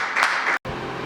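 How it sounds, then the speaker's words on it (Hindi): An audience applauds during a stage play, a dense burst of clapping lasting about a second with a tiny break partway through. "शाबाश, तालियां।"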